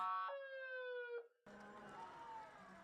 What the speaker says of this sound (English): you can probably hear that siren about 3 or 4 miles away from this ballpark